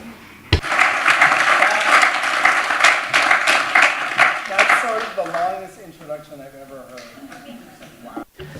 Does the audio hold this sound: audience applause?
yes